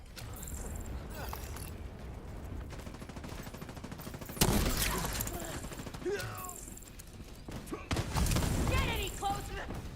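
Gunfire in the video game The Division, loud bursts of shots in two clusters with mechanical clatter and other game noise between them, and a voice speaking at times.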